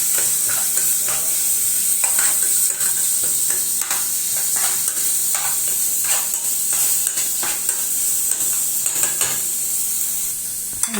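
Chicken shawarma stirred in a frying pan: a steady sizzle and hiss with repeated scraping and clinking of a utensil against the pan, close and continuous, no voices.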